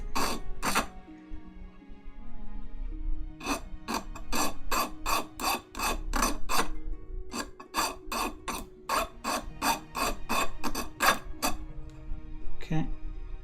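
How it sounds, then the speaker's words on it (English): A hand file rasps a burr off a RepRap 3D printer part in rapid repeated strokes, each a short, sharp scrape, close and fairly loud, with someone talking over parts of it. "So hopefully those of you who are watching aren't people that dislike the sound of filing."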